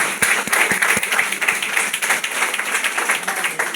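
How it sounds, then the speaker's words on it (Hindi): Loud audience applause for Vestige fills a hall, dense steady clapping with a few sharp individual claps standing out early, continuing throughout. "वेस्टीज के लिए जोरदार तालियां हो जाए"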